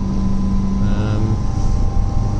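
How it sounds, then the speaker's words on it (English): Lancia Flavia Milleotto LX engine droning steadily while driving, a continuous low hum heard close inside the car with faint rumble and no break. "hopefully you can hear the engine over my jabbering"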